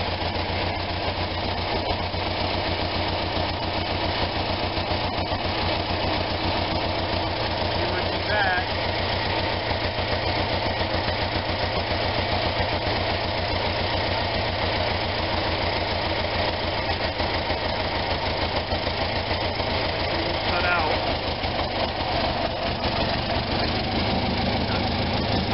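An Onan engine running after a carburetor rebuild, freshly fired with oil blown into the cylinders, holds a steady, loud, close idle with a slightly knocking mechanical rhythm throughout, and a voice speaks briefly over it.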